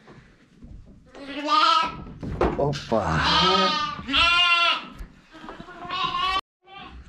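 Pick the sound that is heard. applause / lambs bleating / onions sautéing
lambs bleating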